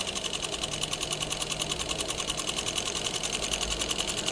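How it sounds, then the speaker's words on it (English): A sewing machine stitches a row around a garment's sleeve cap with a steady, close, rapid mechanical chatter and a faint motor hum, running evenly without pause. "You will stitch with the right side of the garment up so that your bobbin thread will appear on the wrong side"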